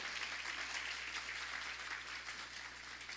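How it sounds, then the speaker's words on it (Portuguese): Steady applause from an audience at a talk, a continuous even wash of many hands clapping with no voices over it. "Uma salva de palmas para a Paty."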